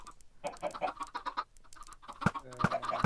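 Minecraft chickens in a hopper egg farm give short clucks and squawks scattered through the stretch, with a couple of sharp pops and soft game noises near the end.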